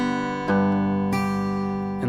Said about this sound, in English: Second half of the pattern, your thumb goes back to the low E, and your second finger goes to the first string.